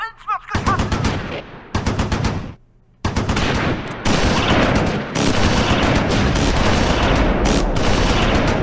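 Bursts of machine-gun and rifle fire in the World War II strategy game Close Combat IV: Battle of the Bulge, loud rapid volleys broken by short pauses, then a sustained dense fusillade.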